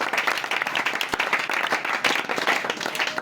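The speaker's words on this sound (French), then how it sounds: "On acclame très fort que Jésus-Christ." Church congregation clapping loudly in praise, a dense, continuous burst of hands with a few sharper single claps standing out, close and unbroken.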